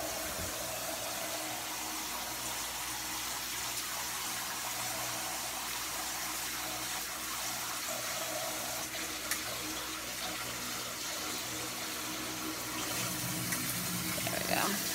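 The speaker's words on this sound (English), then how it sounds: "now we're gonna turn our shower head on." A shower head running water into a bathtub, a steady even hiss and splash of spray that continues throughout at moderate level, with no talking.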